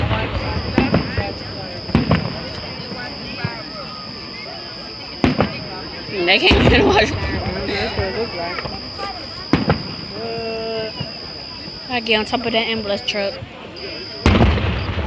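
Fourth of July fireworks crack like gunshots in sharp, scattered bangs, some in quick clusters, echoing outdoors while people talk nearby and a steady high electronic tone runs underneath.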